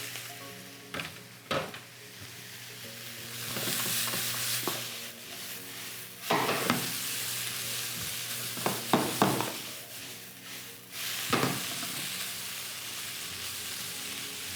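Steady sizzling of vegetables and tofu noodles stir-frying in a hot pan, with intermittent scraping and clattering of a utensil against the pan, close and fairly quiet.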